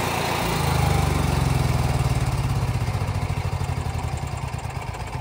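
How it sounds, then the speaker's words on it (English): Cummins Onan RPQG 4000-watt RV generator running close by, a loud, steady engine drone with a rapid pulsing throb that slowly wavers, alone with no voices. "generator running."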